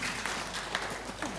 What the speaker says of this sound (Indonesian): Tepuk tangan untuk Bank Sulselbar.